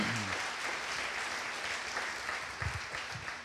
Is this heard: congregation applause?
yes